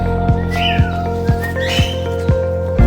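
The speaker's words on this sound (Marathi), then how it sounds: "ते पोपट ना रे" A parrot calls along a forest trekking trail near Karnala fort, giving a couple of short, bright whistled chirps over a steady background with a regular ticking pulse.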